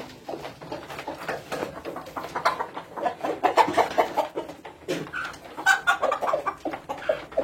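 Many chickens cluck and squawk close by in a layer-hen farm shed, an irregular, busy chorus of short calls rising and falling with no talk.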